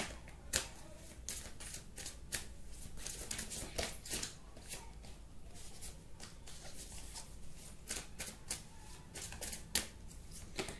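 Tarot cards being shuffled up close, a steady quiet riffle of sharp clicks and flutters with occasional louder snaps, and almost no talk.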